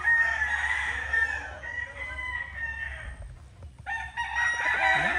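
A bulik gamefowl rooster at a gamefarm crows loudly and close by, with a drawn-out call followed by a second crow near the end.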